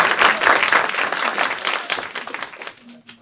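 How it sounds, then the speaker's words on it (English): Audience applause at the close of a forensic psychology panel session, a short burst of clapping that fades out over a few seconds, ending with a faint tone. "Yes, applause."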